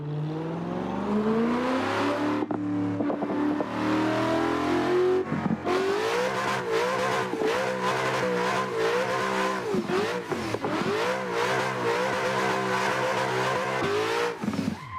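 A drift car's engine in Assetto Corsa on a backwoods drift track mod revs hard and continuously, its pitch rising and falling sharply through gear changes and throttle blips, loud and steady with no talking.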